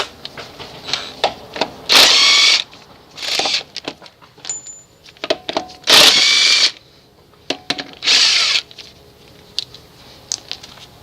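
Impact wrench removing lug nuts from a front wheel of a 1989 Chevy K1500 Silverado, with four loud, sharp bursts of about half a second each, separated by quieter clinks and rattles of metal.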